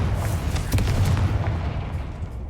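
A fire-blast spell explodes in Hogwarts Legacy, a dense, booming low rumble sustained for a couple of seconds with a few sharper bursts mixed in, loud and close.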